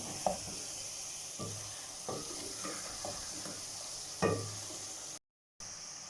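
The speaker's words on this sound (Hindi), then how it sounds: "चिकन को मसाले के साथ अच्छी तरह फ्राई करेंगे ताकि मसाला और चिकन आपस में एक साथ मिक्स हो जाए।" Chicken fries in masala in a pan, a steady close sizzle with several sharp clatters as the pieces are stirred and turned, no voices.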